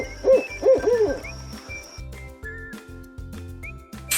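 An owl gives three quick close hoots, followed by a steady rhythmic background beat with faint whistle-like tones and no further calls.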